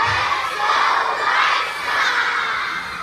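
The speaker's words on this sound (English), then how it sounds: "As they arrived at the stadium, fans cheered." Chicago White Sox fans cheer and shout on arrival at the stadium, a dense, steady roar of crowd voices and whoops from many people, loud and continuous throughout.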